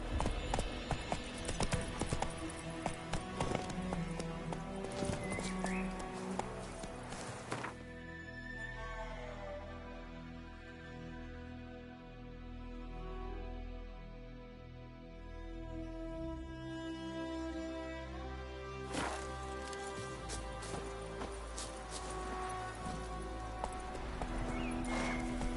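Horse hooves clip-clopping at a gallop in The Witcher 3, a steady rhythmic beat carried under a continuous orchestral music score, with an occasional whinny.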